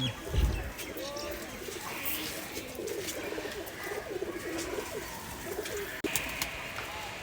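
Rajshahi giribaj pigeons coo softly and repeatedly, with a few faint chirps and wing sounds outdoors as two birds take off.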